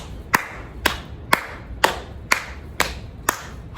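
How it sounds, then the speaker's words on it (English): Slow, evenly spaced claps land about every half second, seven crisp hits in a steady rhythm with softer pats between them, close and clear at a children's storytime. "Pat and clap. Pat and clap. And we're going to keep patting and clapping"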